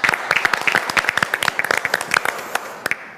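Applause during a food week kickoff show, a small group clapping in quick, distinct, irregular claps, close and fairly loud, tapering off at the end.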